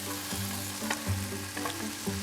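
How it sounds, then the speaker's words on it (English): Spring onions and peppers fry in olive oil in a pan, giving a steady close sizzle with brief stirring scrapes and a low hum beneath, and no talking. "add some olive oil to the pan to cook the rest. In go the spring onions"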